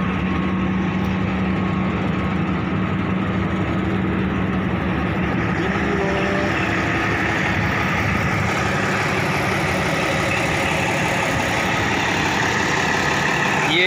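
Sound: Bimal company dozer model 355 engine idling

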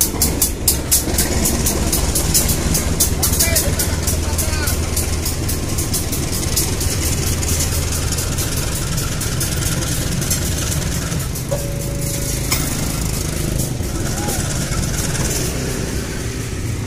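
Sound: locomotive THB 8901 diesel engine idling

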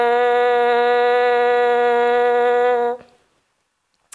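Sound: French horn mouthpiece buzz from embouchure

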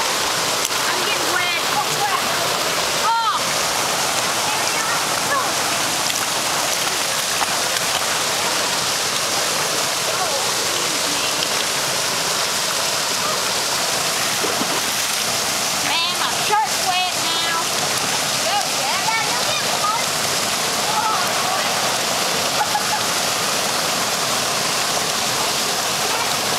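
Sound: Little Missouri Falls waterfall

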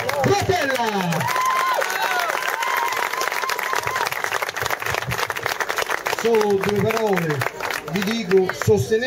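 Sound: audience applause at award ceremony

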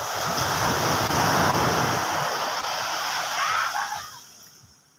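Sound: small ocean waves on beach

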